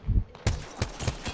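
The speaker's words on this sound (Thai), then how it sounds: "ได้ยินเสียงปืน" Gunfire in Apex Legends, a quick burst of several sharp shots in rapid uneven succession, moderately close and loud, with no talking.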